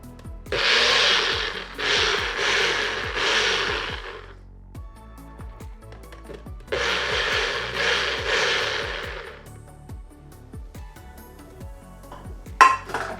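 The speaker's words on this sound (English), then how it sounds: "So what we're gonna do is we're gonna go ahead and blend this up." A blender whirs through protein pancake batter made with protein powder, stevia and cinnamon, running in two loud bursts of quick pulses separated by a pause, then a short clunk near the end.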